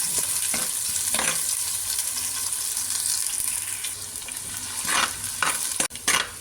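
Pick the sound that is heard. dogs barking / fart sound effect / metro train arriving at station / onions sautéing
onions sautéing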